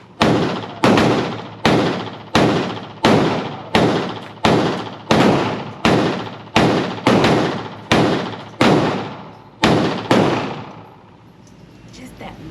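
Loud Glock 25 Gen 3 pistol in .380 ACP fires about a dozen sharp shots in a steady, evenly spaced string. Each report is close and booming with a short decaying tail, and a quiet pause follows the last one.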